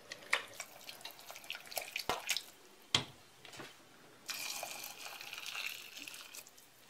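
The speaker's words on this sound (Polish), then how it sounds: "Dolewam wodę." Scattered drips and clinks give way to a steady splashing pour of water into a soup pot, fairly quiet and close.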